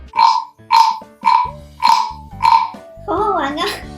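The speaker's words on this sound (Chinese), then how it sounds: "这样就发出了青蛙的叫声。" A wooden frog guiro croaks as a stick is scraped upward along its ridged back, giving five evenly spaced ratchety croaks close up, then a longer warbling rasp at the end, loud and alone.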